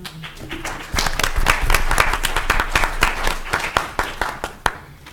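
Audience applause at a school board meeting, a burst of many hands clapping that starts abruptly, holds steady, then thins into scattered individual claps near the end.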